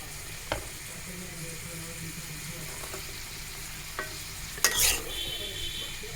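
Cabbage for noodles stir-fries in a pan, a faint steady sizzle marked by a few scattered spatula knocks and one louder clatter near the end.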